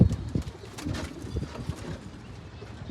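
Pigeons coo in a loft, repeated low throaty calls close by over a busy rustling background with some bumps, no talk.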